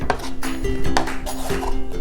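A kitchen knife chops ingredients for Korean japchae on a cutting board, giving several close, sharp knocks in an uneven rhythm with no talking.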